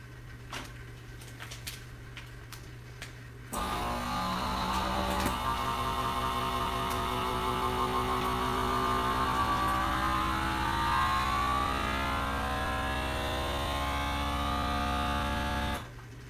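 A FoodSaver vacuum sealer pulls a vacuum on a bag, its motor starting abruptly with a steady loud mechanical drone and whine that runs for about twelve seconds before cutting off, with faint clicks before it starts.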